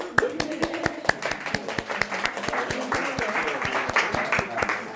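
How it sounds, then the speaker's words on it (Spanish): Scattered hand claps build into a few seconds of steady applause from a small group at a Spanish-language Bible teaching session, with voices talking underneath. "Vamos a darle un aplauso."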